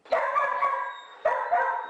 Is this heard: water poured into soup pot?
no